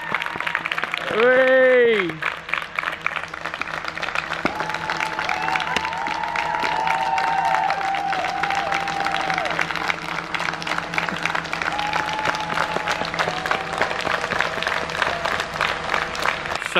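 Neighbours out in the streets during lockdown clap and cheer from many directions, a broad wash of applause that is near and far at once, with a loud shout at the start, a few whistles and someone speaking over it.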